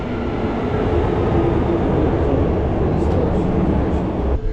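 Inside a moving train, a loud steady rumble with a broad roar of wheels and carriage noise fills the whole stretch, unbroken and close.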